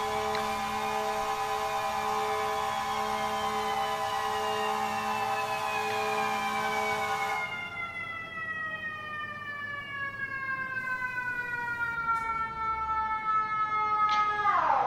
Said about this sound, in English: your unit will respond with lights and sirens